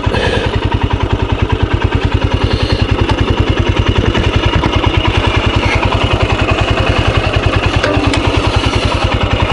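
A Royal Enfield Scram 411 motorcycle engine idles close by with a steady, rapid low thumping pulse that holds even throughout, loud and without talk.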